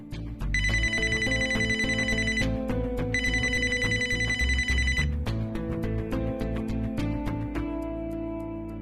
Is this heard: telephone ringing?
yes